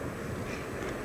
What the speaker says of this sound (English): This is one of the few places where the metro comes out